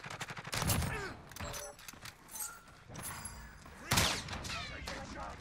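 Shotgun blasts and other gunfire in Call of Duty Modern Warfare 2, dense and continuous with several heavy booming shots standing out from a busy mix of game effects and noise.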